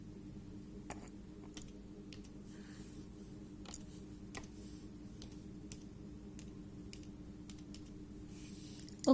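Someone types text on a computer keyboard, producing soft, irregular clicks and key taps close by in a quiet room with no speech.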